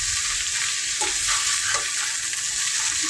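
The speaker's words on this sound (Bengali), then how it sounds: "করলা ভাজি করতেছি।" Bitter gourd frying in a pan, a steady loud sizzle running throughout with a few soft stirring scrapes mixed in, no voices.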